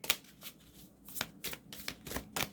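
Tarot cards being shuffled for a reading, a quick run of crisp riffling slaps and flicks in an irregular rhythm, close and alone.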